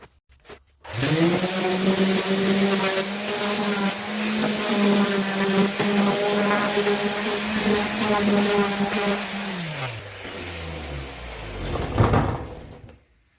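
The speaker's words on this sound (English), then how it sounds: "let me change out to my high grit sandpaper and we'll do the other side" A power sander fitted with high grit sandpaper works over a wooden bread board, its steady loud motor hum droning for several seconds before spinning down and stopping.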